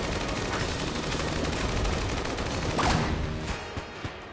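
Rapid gunfire from the video game Enter the Gungeon, a dense continuous barrage of shots and blasts that thins out near the end into a few scattered pops.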